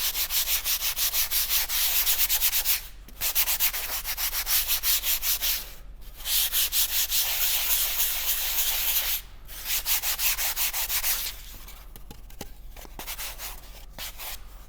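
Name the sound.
sanding a foam climbing hold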